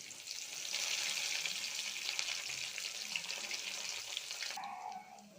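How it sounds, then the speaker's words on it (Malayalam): Crushed garlic, ginger and curry leaves hit hot oil after mustard seeds pop, for a soya masala. A loud, close, steady crackling sizzle swells and continues, then drops away sharply near the end. "ചതച്ച് വെച്ചിരിക്കുന്ന ഈ വെളുത്തുള്ളി, ഇഞ്ചി, കറിവേപ്പില ഇത്രയും സാധനങ്ങൾ ഇട്ട് കൊടുക്കാം."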